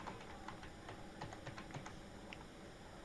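Steady, rapid typing on a computer keyboard, many light clicks in an even run, quiet and close against faint background noise.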